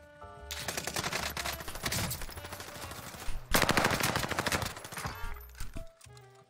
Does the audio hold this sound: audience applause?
no